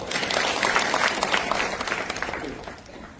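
An audience at a devotional kirtan gives a burst of clapping, a dense, lively applause that holds steady and then thins out and fades over about three seconds.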